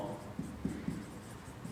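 Marker or chalk writing on a board during a class lesson: a short series of soft, quick strokes and taps, faint and close, over a quiet room.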